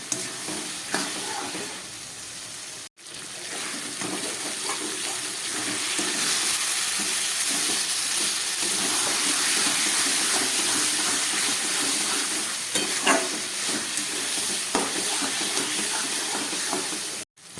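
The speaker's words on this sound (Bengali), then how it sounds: "এবার আমি খুব ভালো করে গ্যাসটাকে কম করে 5-6 মিনিট মতো কষাবো" Mutton with spices and ground cumin sautéing on low gas, a steady broad sizzle with scraping stirs and occasional knocks of the spoon against the pot, close and continuous, with no talking.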